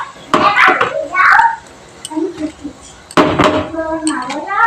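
Fried eggs dropped one at a time into a pot of boiling gravy for dim posto jhal, giving a couple of close clinking, clattering impacts with utensil knocks, under a voice and some kitchen chatter.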